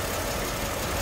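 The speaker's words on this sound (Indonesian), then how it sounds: "Kalian dengerin suara mesinnya nih." A car engine idles with its air filter removed, a steady, even, continuous low hum at close range with no talking over it.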